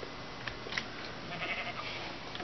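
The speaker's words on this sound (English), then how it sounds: "That sheep was running around." Sheep in the video game Minecraft bleat in short, faint baas over low background noise, a few brief calls spread across a couple of seconds.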